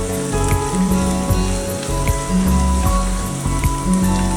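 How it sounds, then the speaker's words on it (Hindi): Green chillies drop into onions frying in a pan for vermicelli upma, giving a loud, steady sizzle and crackle throughout with no talking. "अब मैं ये ग्रीन चिली डाल देती हूँ।"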